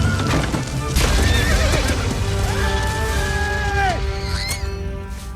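A horse in an animated Mulan film scene whinnies loudly, with hooves clattering and a dense orchestral and battle backdrop filling the clip.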